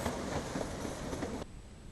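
The KC 520 locomotive train runs past with a steady, dense rumble and rattle of wheels on track. It is loud and continuous, then drops away abruptly near the end, with no voices.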